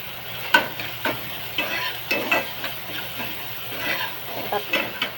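Onion frying in oil in a pan and being stirred for kande pohe: a steady sizzle with repeated scraping strokes of a spoon, close by and moderately loud.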